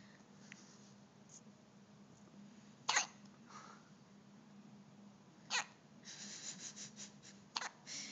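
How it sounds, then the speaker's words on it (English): A small child hiccups several times, sharp, brief, fairly quiet bursts separated by pauses, with a few softer sounds between them and no talk. "Oh, hiccup."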